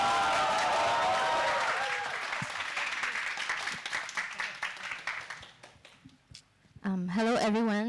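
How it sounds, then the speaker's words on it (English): Audience applause at the SFC 2023 final film pitch, greeting the team behind Let the Spirits Guide You: a dense, full round of clapping that slowly thins and fades over about six seconds, after which a voice starts speaking close up. "Please give a big round of applause for Let the Spirit Guide You."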